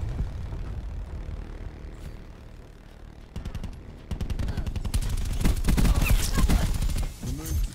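Automatic hip-fire gunfire in Black Ops 4, a quiet start under low background noise, then bursts of rapid close shots that build into heavy, dense firing before easing slightly.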